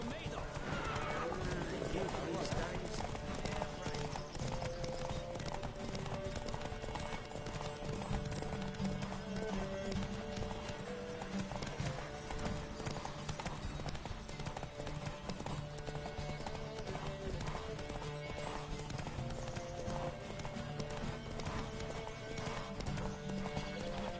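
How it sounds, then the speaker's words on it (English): Rapid galloping hoofbeats in The Witcher 3: Wild Hunt pound on without pause during a horse race, with an occasional whinny, under a steady bed of music and a voice talking. "Don't spare the horse!"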